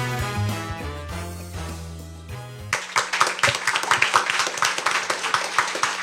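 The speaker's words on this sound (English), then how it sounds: "Thank you to those persons who are in studio as well for your enthusiastic round of applause" Studio audience at a junior science quiz show breaks into enthusiastic clapping after a musical sting fades, a dense burst of applause that carries on steadily to the end.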